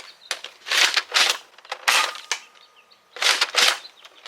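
Dart Zone Max Dictator foam dart blaster fired indoors in a series of sharp, airy pops with short gaps between them, loud and close, with no talking.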